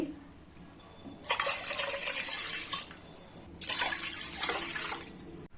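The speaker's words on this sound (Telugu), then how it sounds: "గిన్నెలో మూడు గ్లాసులు వాటర్ వేసుకోవాలి" Water pours from a tap into a pot in two bursts of a few seconds each, splashing and gurgling, with quieter pauses between.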